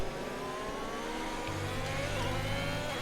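Formula One race car engines from the F1 2021 video game, racing at Imola, give a continuous loud engine whine with rising pitch lines as cars run close together, and a low drone enters partway through.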